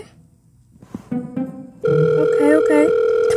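A telephone ringback tone sounds after dialing, starting as a steady, fairly loud tone partway through, with some quiet rustling and brief vocal sounds before it.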